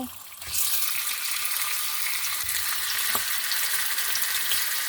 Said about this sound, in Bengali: এটা আমি সামান্য ভেজে নেব